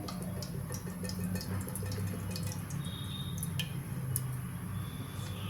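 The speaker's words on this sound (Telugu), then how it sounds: "గిన్నె వేడైంది కదా, ఆయిల్ పోసుకుందాం." Cooking oil is poured into a heated pot on a stove while making an Andhra-style fish and raw mango curry, a soft, steady liquid trickle with faint drips, quiet and without talk.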